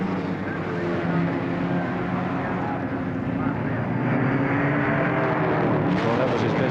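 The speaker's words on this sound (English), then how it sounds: "we'll see the power of these two as they really give them full throttle on the largest straightaway at this Warwick Farm circuit" Touring race cars at full throttle down the long straight at Warwick Farm circuit in 1973, one a Ford Falcon: a loud, sustained engine roar that swells slightly as the cars pass.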